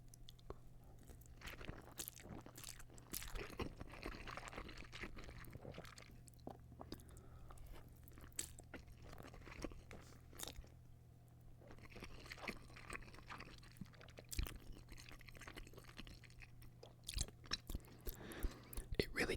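Beef ramen noodles are chewed close to a microphone in a quiet, intimate setting. Soft, irregular crunches, bites and squishy chewing noises repeat throughout.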